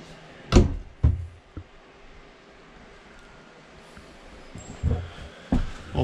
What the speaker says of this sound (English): Little pocket door here for the master bathroom, or for the only bathroom.